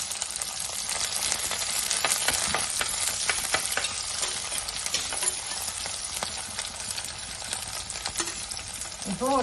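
Chopped shallots hit hot oil already crackling with mustard seeds and fenugreek, giving a dense, steady sizzle with scattered pops and a few stirring clinks close by.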